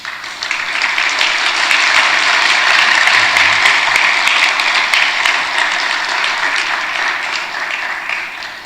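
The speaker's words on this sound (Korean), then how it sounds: "박수 한번 해주시면 감사하겠습니다" A church congregation applauds a pastor and his wife, a dense sustained round of clapping that swells quickly and holds steady before tapering off at the end.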